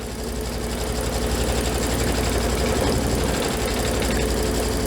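An embroidery machine stitches out a design for a fabric basket in a steady, loud, continuous mechanical whir with fast repetitive needle chatter, running unbroken throughout.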